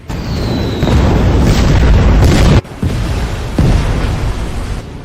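A warship's 76 mm main cannon firing in a sea battle, heavy sustained booming blasts with a sudden cutoff midway, then further loud rumbling explosions rolling on to the end.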